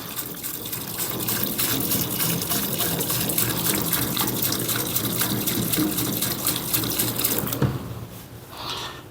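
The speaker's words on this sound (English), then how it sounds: "I'm going to take and add about 1 gallon of solvent" Detergent solution poured steadily from a jug into a JEGS 20-gallon parts washer, a continuous close gushing splash that stops abruptly near the end, with no talk.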